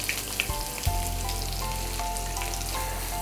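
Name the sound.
chopped onion frying in pan with cumin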